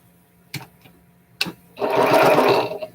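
A sewing machine stitches quilt pieces together. Two sharp clicks come first, then a steady, close whirring run of stitching for over a second.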